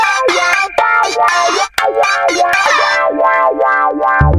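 Funky royalty-free music track with punchy, rhythmic synth or effected lead stabs and sliding notes over a steady groove, loud and upfront with no talking.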